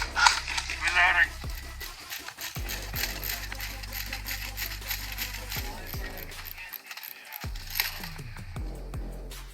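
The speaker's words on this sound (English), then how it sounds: "Reloading." Airsoft rifle being reloaded, a close run of metallic clicks, rattles and mechanical clacks with a low background rumble and a brief faint voice.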